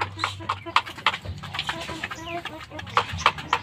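A medium-to-large hen clucks in short, scattered bursts close by, with a person talking softly over the calls.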